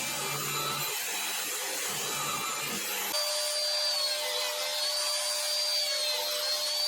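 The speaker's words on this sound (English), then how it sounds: "Let's go and drill this out and get it routed." An electric router whines steadily as it routs a pocket into a guitar body, holding a high sustained pitch. A lower machine hum shifts in the first few seconds before the tone settles. There is no talk.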